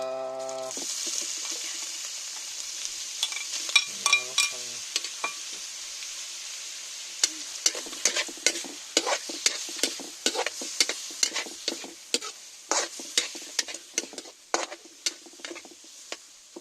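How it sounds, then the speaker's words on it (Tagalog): Duck meat and banana heart being sautéed in a pan, with sizzling frying and repeated scraping stirs and clatter across the whole stretch, loud and close, with no talking. "Naigisa ko na yung bibi at puso."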